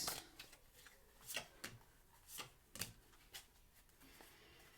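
Light Seers Tarot cards are shuffled in a quiet, close series of soft riffling bursts and papery slaps, about a dozen irregular strokes in under five seconds.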